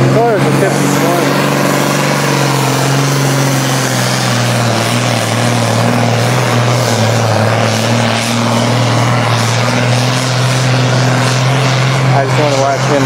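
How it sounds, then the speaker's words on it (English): John Deere 5012 tractor with a 12-cylinder Detroit two-stroke diesel engine, a loud, close, steady deep droning roar with a strong low hum that holds throughout without pause. "That's a 12-cylinder Detroit, two-stroke diesel."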